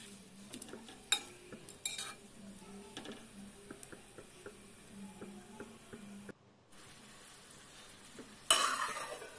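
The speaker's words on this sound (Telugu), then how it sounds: "ఇలాగే కాసేపు ఫ్రై చేసుకోవాలి." Ingredients for a fish curry frying in a pan while a spoon stirs them, giving a soft steady sizzle broken by scattered scrapes and clinks of the utensil against the pan, with a louder burst of sizzling near the end.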